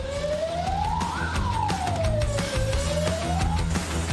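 A high-performance wildfire fire truck siren wails close by, its tone sweeping up and then slowly down, over steady engine and road rumble.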